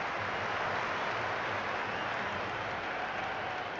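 A stadium crowd at a T20 cricket match between India and South Africa applauds and cheers in a steady, dense wash of clapping and noise, sounding moderately distant and holding constant throughout.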